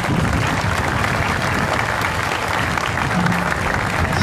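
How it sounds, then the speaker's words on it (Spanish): A crowd at a 25 de Mayo civic ceremony and parade gives loud, sustained applause to welcome a chacarera performance, a thick unbroken wash of clapping with no pauses. "Lo vamos a recibir como se lo merece, por supuesto, con un fuerte aplauso."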